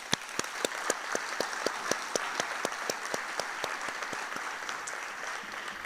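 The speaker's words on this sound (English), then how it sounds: "let's take a moment for applause for our sponsors" Conference audience applause for sponsors at an energy conference, fairly faint and distant, with evenly spaced claps sounding through a soft crowd wash.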